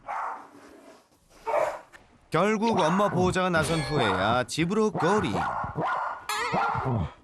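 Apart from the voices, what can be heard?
dog barking fiercely at a visitor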